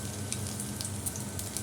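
Dried red chillies tempering in hot oil, a short burst of soft, even sizzling with faint crackles, close but quiet.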